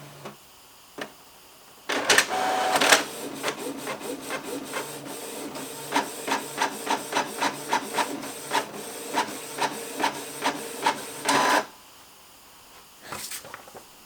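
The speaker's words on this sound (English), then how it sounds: "We can print a test page to make sure the printer is working fine." A USB printer whirs into action, then clicks and thumps in a steady, repeating rhythm as a test page feeds through, ending with a final whirr.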